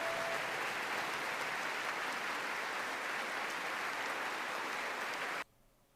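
Dense, sustained applause from a large crowd in the US Congress, steady and loud throughout, then cut off abruptly near the end, leaving quiet room tone.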